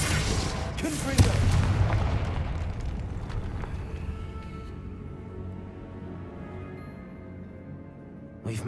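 A Confringo blasting spell explodes in Hogwarts Legacy inside a tomb: a loud, booming blast that breaks out and then trails off into a long rumbling decay, with a low game ambience continuing beneath.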